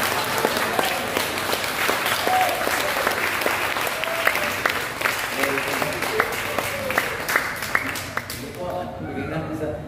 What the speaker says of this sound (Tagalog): Bigyan natin sa Panginoon ang malakas na palakpak.